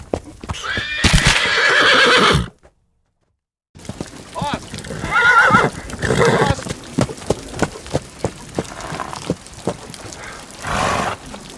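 A horse whinnies loudly and close, then after a brief silence hooves clop in an irregular rhythm with another neigh near the end; voices talk over it.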